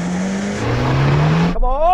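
Suzuki Jimny engine revving hard on an off-road race course, a loud, close droning note that holds and then climbs in pitch before cutting off as a voice starts talking.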